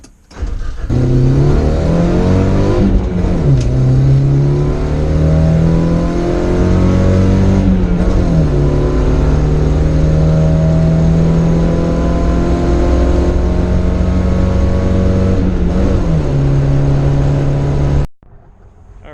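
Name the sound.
pickup truck driving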